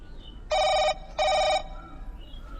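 A telephone rings in two clear bursts with a short gap between them, loud and close over quiet background noise.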